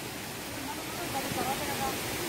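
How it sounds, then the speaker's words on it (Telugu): Vibhuthi Falls near Gokarna gives a steady, broad rush of flowing water, soft and even, with a faint high tone drifting over it. "ఆ వాటర్ వచ్చేటువంటి సౌండ్ వింటే చాలా అసలుకి ఏదో ప్రశాంతత"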